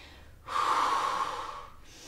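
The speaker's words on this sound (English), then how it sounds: "take some nice deep breaths" A single long, deep breath drawn in close to the microphone, lasting over a second before fading.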